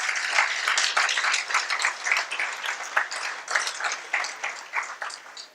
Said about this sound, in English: we should definitely have a big round of applause for the people who have put today together